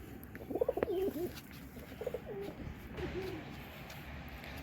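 Soft pigeon coos in a few short bursts from young pigeons in a local pigeon loft, then quieter repeated cooing against a faint background hiss; nobody speaks.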